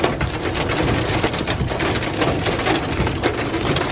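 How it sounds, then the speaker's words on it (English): Dense hail pelts down in a continuous loud clatter during a severe tornado storm in Oklahoma, with a constant roar of wind and impacts and no voices. "there is so much hail right now"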